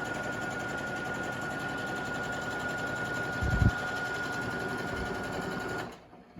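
A sewing machine stitches jelly roll rail fence quilt pieces of Riley Blake Hope and Bloom fabric, running as a steady, even mechanical whir with a brief clunk partway through before the motor winds down and stops.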